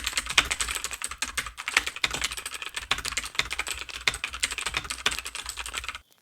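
Rapid, steady clatter of a mechanical keyboard fitted with German-made Cherry MX green switches, dense overlapping keystrokes with crisp clicks running continuously for about six seconds before stopping abruptly.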